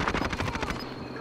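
Rapid automatic gunfire from the Warzone video game rattles in one quick burst of shots and then fades to a lingering tail, moderately loud, with no voices.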